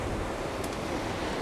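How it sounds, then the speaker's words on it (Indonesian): Strong sea waves roll in a continuous, loud wash of surf noise, with wind buffeting the microphone throughout the short stretch. "Wah, ombaknya cukup kencang, pemirsa."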